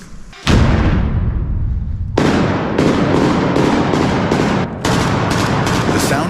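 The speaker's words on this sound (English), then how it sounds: "The sound of an FPV drone and an explosion reminds us of the additional threats" An FPV drone explosion opens a rapid series of sharp explosive cracks and bangs near enemy trenches, dense and close, with a brief lull before the barrage resumes.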